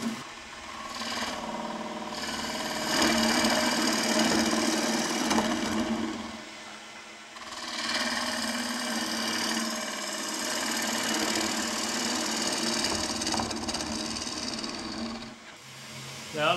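A wood lathe spins a small bowl at about 1,000 RPM while a gouge dives in and cuts, producing a continuous scraping, shearing hiss that fades briefly between passes before resuming, close and steady with no talking.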